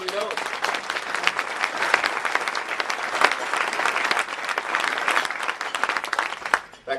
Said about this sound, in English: That clap was started by their communication.